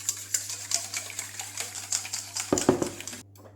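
A hand whisk beating pumpkin pie filling in a bowl, rapid rhythmic metallic ticking against the sides for about two and a half seconds, close and steady, ending with a louder clatter before the whisking stops.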